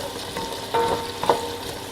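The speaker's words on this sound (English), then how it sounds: "My pot is on medium heat and I'm going to cook the onions for about 7 to 10 minutes" Onions cook in a pot on medium heat for a butternut squash and apple bisque, a brief soft frying crackle with a couple of light metallic clinks.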